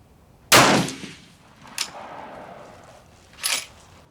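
A rifle fires surplus rounds at an outdoor range: three sharp, loud shots spaced about a second and a half apart, the first strongest, each with a short echoing tail and no talk.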